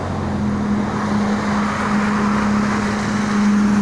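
Busy traffic streams steadily along the Jakarta–Cikampek toll road on a morning of heavy holiday travel, a constant loud roar of passing cars, trucks and buses with a steady engine hum and no voices.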